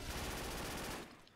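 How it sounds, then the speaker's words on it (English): Automatic machine gun fire in the video game Call of Duty: Modern Warfare, a fast, dense burst of rapid shots lasting about a second before cutting off, loud and alone. "Got a freaking machine gun in my hand."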